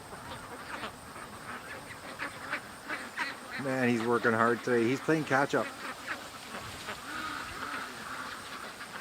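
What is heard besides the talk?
flock of ducks quacking as they return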